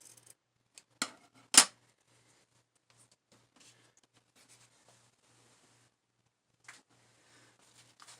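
Scissors snip through twill tape in a quiet room, two sharp close cuts followed by faint rustling and a later softer snip.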